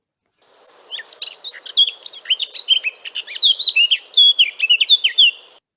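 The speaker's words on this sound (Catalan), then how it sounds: "Primer el tallarol de casquet." A Eurasian blackcap sings a rapid, varied warbling phrase of high, clear chirps and whistles, continuous for about five seconds, close and loud with no voices.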